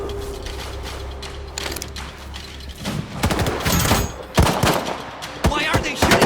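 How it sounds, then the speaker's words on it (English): Gunfire in STALKER 2: Heart of Chornobyl, loud bursts of rapid automatic shots and sharp single cracks that grow denser toward the end after a quieter opening hum. "Why are they shooting at us?"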